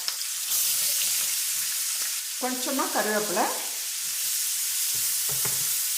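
Chopped onions sizzle steadily in a hot pan with occasional stirring scrapes, and a voice speaks briefly partway through.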